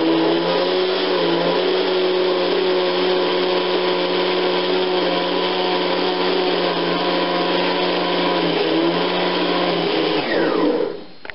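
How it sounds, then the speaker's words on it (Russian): Kitchen blender whirring through potato pancake batter, a loud, steady motor whine that holds for about ten seconds before spinning down and stopping. "И вот я уже все прокрутила в блендере"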